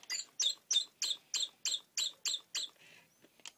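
A Gemmy Singing Bluebird toy chirps about nine times in a quick, even rhythm, then gives a softer fluttering trill and a final short chirp, all fairly close.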